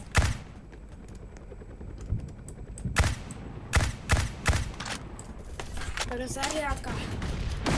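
Rapid bursts of gunfire aimed at a helicopter in a Roblox war game, sharp cracking shots in irregular clusters mixed with excited voices talking over them.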